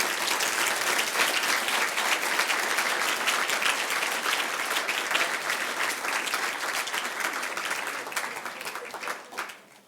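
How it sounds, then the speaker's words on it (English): An audience at a Phi Beta Kappa induction ceremony gives a speaker a sustained, dense round of applause that holds steady for several seconds and then tapers off at the end. "Join me in a warm round of applause for our speaker, Dr. Robert Darden."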